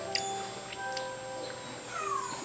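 A cat meows a few times, thin, high and fairly faint, ending in a drawn-out falling meow over a quiet indoor background.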